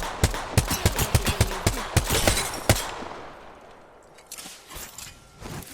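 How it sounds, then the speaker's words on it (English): Bursts of gunfire in an Apex Legends match ring out in sharp, rapid volleys for the first few seconds, with loud close shots, then thin out into quieter scattered reports and faint movement. "Shooting at me."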